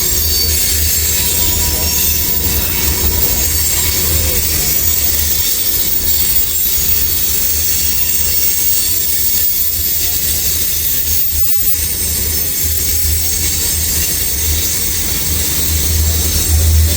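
Freight train cars roll past close by, loud and steady, a continuous rumble with squealing wheels and faint clickety-clack running all the way through, with no voice heard.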